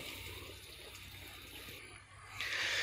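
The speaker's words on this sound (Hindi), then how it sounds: "ये देखें हमने टैंकी जो है वो पानी से फुल कर ली है" Water pours steadily into a 20-litre pesticide sprayer tank in a guava orchard, a continuous close rushing fill with a brighter gush near the end.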